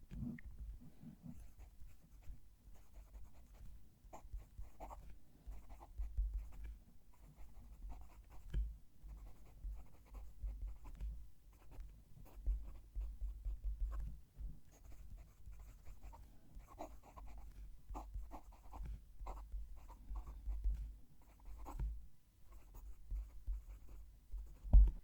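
Casey Mokuzai fountain pen nib writing a sentence on paper, a soft, close, whispery scratching in short irregular strokes with small taps and pauses, quiet and alone.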